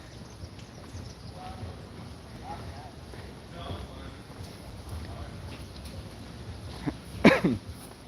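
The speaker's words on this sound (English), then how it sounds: "Coughed right here in the mask." A single short, muffled cough into a face mask sounds near and fairly loud during an outdoor walk through the French Quarter in New Orleans, over soft wind and street background.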